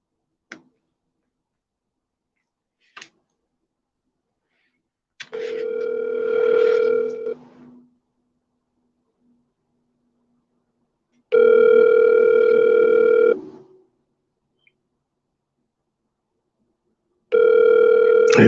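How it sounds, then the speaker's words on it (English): An outgoing phone call rings back in evenly spaced tone bursts, each about two seconds long with silent gaps between, clear and close, after a couple of faint clicks. "He probably not gonna answer the phone because I've never called him off this one"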